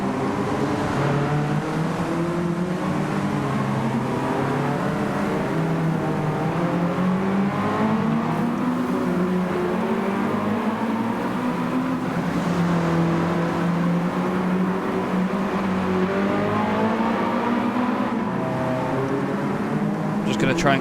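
A race car engine in a video game holds a steady, sustained drone with slowly wavering pitch, kept at moderate revs throughout, loud and continuous with no breaks.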